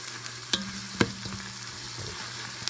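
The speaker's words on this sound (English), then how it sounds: "I'm just going to mix that in" Fresh parsley and basil are stirred into pasta sauce in a pan, giving soft scraping clicks and a few sharper taps over a low, steady sizzle.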